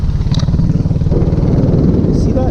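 A Kymco scooter engine running steadily while being ridden, a loud, close, continuous buzzing drone with slight rise and fall and no talking.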